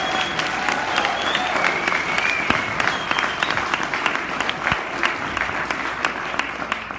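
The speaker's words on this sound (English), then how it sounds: "So let's give them a big round of applause." A community audience applauds touring doctors, steady sustained clapping from a crowd at moderate loudness throughout, with a faint voice occasionally surfacing underneath.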